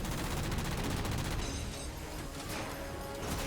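Apex guns firing in the Halo Spartan Ops game keep up a dense, continuous barrage of rapid shots and bursts, loud and sustained throughout with no voices.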